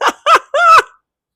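A chicken gives three close, loud clucks in quick succession, the last one longer and drawn out, heard on its own with no talk.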